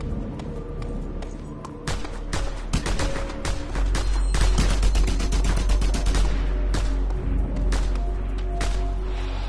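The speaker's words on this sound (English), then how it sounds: "Another mounted gun!" Mounted gun in Just Cause 2 firing in loud, rapid bursts, dense crackling gunfire with heavy low booms and explosions layered over a continuous battle din.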